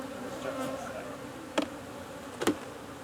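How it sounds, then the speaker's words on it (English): Honey bees shaken frame by frame into a shaker box, giving a steady low buzzing hum from the bee mass, broken by two sharp thuds as frames are knocked, close and moderately loud. "and shake the bees in."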